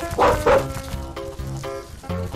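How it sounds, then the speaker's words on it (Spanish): A dog barks a few times up close, short sharp woofs followed by a brief whimpering yip. "Un perro."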